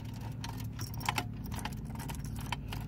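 A bunch of keys jangles and clicks while someone tries to lock a motorhome security lock, making light, irregular metallic taps and rattles close by over a low background hum.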